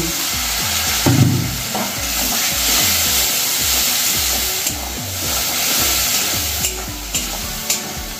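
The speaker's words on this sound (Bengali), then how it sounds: "অল্প করে একটু জল দিয়ে কষিয়ে নেব।" Spice masala sautéing with a splash of water in a pan, a steady loud sizzle and bubbling with repeated stirring scrapes throughout, no voices.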